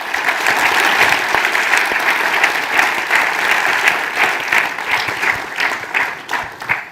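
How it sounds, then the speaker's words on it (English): Audience applause after talks at an IET President's address on engineers and AI: a sustained burst of many hands clapping, dense and close, slowly thinning toward the end. "let's have a big round of applause for everybody who spoke today"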